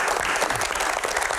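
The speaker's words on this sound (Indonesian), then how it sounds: "Tepuk tangan" A studio audience on a Q&A program applauds in a brief, dense burst of clapping that fills the whole short moment.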